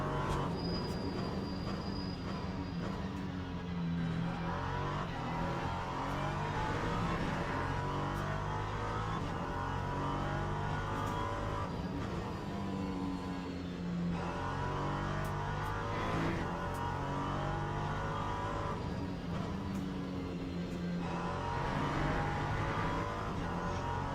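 A race car engine in a racing video game at Monza, a loud, continuous mechanical whine that climbs in pitch and drops sharply at each upshift, repeating through several gear changes with no talk.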